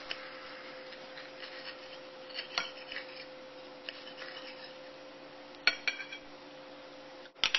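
A knife slices through a tuna melt sandwich, giving a few faint crunchy cuts and scrapes against a plate, spaced irregularly and alone with no talk.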